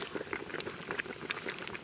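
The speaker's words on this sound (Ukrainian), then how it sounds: "Кипить повним ходом." Grape juice bubbles at a steady boil in a pot, a faint continuous sputter of small pops and gurgles heard close up with no talking.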